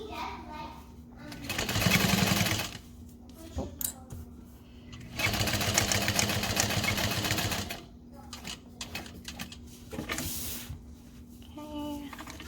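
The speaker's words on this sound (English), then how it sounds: "I almost went a stitch too far, so I just backed up a little bit." Sewing machine stitching a backpack, running in two sustained bursts with a shorter whir near the end, separated by quiet handling noises and faint sounds in between.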